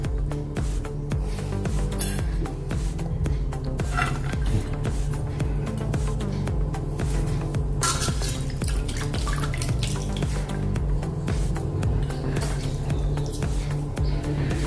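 Water pours and trickles steadily through a strainer while draining ingredients for cauliflower pakoras, with splashing and occasional metallic clinks, continuous and close.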